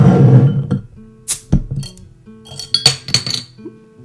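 A glass bottle of Innis & Gunn Canada 150 maple and thistle rye ale being handled and opened, with a few sharp glassy clinks and a cap popping off, close up and without speech.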